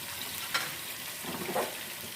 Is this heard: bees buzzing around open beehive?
no